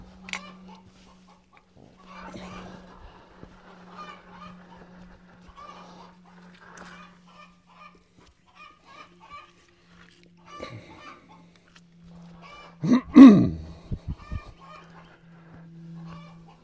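Backyard chickens cluck softly and intermittently, with one louder squawk near the end, close by over a low steady hum.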